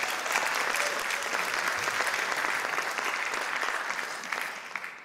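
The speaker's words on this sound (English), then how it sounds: "please give a round of applause to Alexandra" An audience at a business conference breaks into sustained applause, a dense wash of clapping that holds steady before tapering off near the end.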